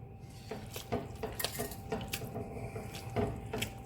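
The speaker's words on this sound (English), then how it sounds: "Just give it a good stir" A spoon scrapes and clinks around a pot of bolognese sauce with carrots and thyme, giving a series of irregular close knocks and scrapes over a low simmering background, with no talk.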